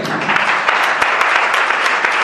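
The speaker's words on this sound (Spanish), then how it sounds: "Denle un aplauso al Rey." Steady applause from a church congregation during a sermon, dense clapping throughout with a few sharper individual claps standing out.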